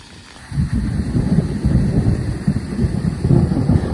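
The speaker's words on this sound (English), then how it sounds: "I padded out barefoot to watch the storm roll across the coast" Thunder rumbles low and heavy during a warm summer storm on the Positano coast, rolling continuously with rain and wind noise beneath it.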